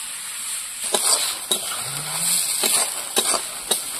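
Ground cumin paste stirred in a hot pan, with a steady close sizzle and repeated soft scraping strokes of a spoon or spatula against the pan.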